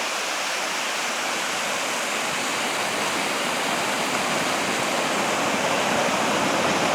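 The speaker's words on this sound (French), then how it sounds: "Ah, et puis on dit que c'est une rivière" Loud, steady broadband rush of river water flowing at Forges du Saint-Maurice, a wide river, heard close and continuous with no voices over it.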